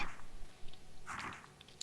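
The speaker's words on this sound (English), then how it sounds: "What are you nomming? It sounds crunchy." Dill pickle potato chips being chewed close by, with a soft mouth noise and then a brief burst of crunchy bites near the middle, quiet and with no talking.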